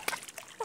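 A leg dipping into salty sea water at Ahtopol, giving a short, close splash with a second smaller splash shortly after, fairly quiet.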